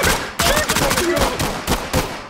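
Rapid bursts of video-game gunfire coming through a wall, sharp repeated shots in clusters over steady background noise, loud and close.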